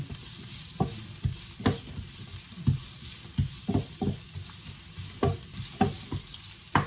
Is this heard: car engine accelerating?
no